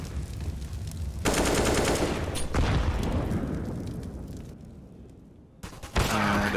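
Sustained rifle fire and heavy bursts in a Counter-Strike: Global Offensive match at IEM Katowice 2023, Natus Vincere vs Team Liquid, loud and dense, fading briefly before a fresh burst.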